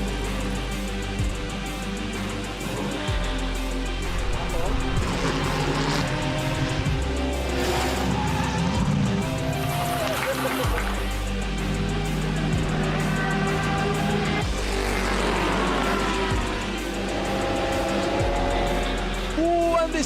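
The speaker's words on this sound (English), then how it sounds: "This is a big crash, massive crash." Race cars at the Red Bull Ring during a sprint race, including Lamborghinis, with a steady loud engine roar, shifting revs and tire noise, while a commentator talks throughout.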